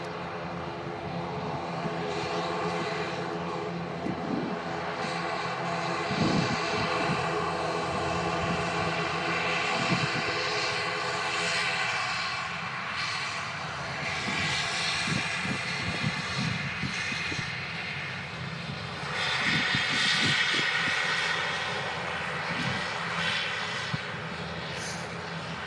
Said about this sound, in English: A350 1000 on the taxi out